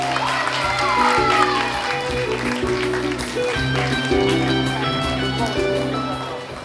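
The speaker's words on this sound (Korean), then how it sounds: "여러분 박수로 환영해 주시기 바랍니다." Crowd at an outdoor song festival award ceremony claps and cheers, the steady applause running beneath booming amplified music with a strong repeating bass beat throughout.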